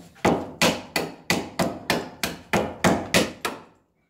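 Ten sharp, evenly spaced blows of a mallet driving a chisel into a wooden board, cutting notches, ring out in a steady rhythm, close and loud.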